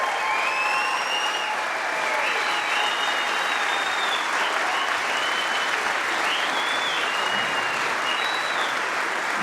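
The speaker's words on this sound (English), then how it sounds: "may we have another round of applause for two truly world-class players" Snooker arena crowd at the Champion of Champions 2023 final gives a long, steady round of applause, dense and continuous, with faint whistles and cheers threaded through.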